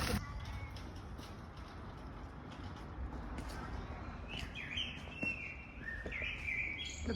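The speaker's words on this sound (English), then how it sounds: "I do like the birds." Birds chirping and calling outdoors during a trip in Scandinavia, a few clear tweets and short song phrases over a steady rushing background, with people talking nearby.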